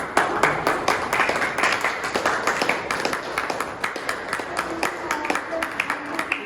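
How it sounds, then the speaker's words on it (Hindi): An audience at a seminar in Jharkhand claps steadily for several seconds. The dense patter of many hands sounds fairly close and stays even in loudness. "क्या भाई आप लोगों की तालियां भी नहीं बज सकती है?"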